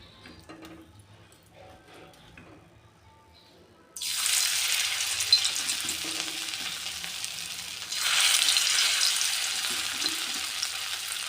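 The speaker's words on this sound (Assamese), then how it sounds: "অলপ অলপকৈ ভাজি যাম।" Chana dal and cabbage pakoras dropped into hot oil on a low flame, a soft background that breaks into a loud bubbling sizzle, dips, then surges again as a second batch goes in.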